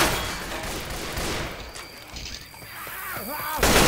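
Gunfire in Left 4 Dead 2 co-op play, rapid shots and booms blended with game noise, and a player's voice briefly heard.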